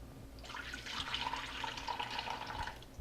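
Yeast water poured from a cup into a large mixer bowl while making Greek fry bread dough: a steady, close liquid stream lasting a couple of seconds, heard alone.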